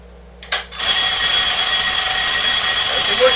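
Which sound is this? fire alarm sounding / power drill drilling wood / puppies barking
fire alarm sounding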